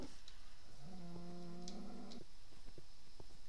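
A cat in a Minecraft-style game lets out a tonal, harmonic meow or purr lasting about a second and a half, close and clear over quiet background ambience with faint clicks, no talking.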